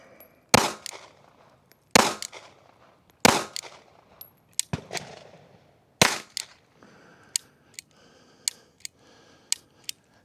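Smith & Wesson handgun shots fired one at a time at a target: about five loud, sharp cracks with ringing decay, spaced a second or so apart, followed by fainter metallic clicks and ticks.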